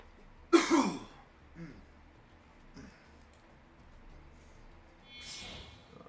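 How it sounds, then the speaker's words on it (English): A single harsh cough burst near the start with a quieter follow-up, then a softer second cough near the end, against a quiet room background. "appear to be coughing up a storm today."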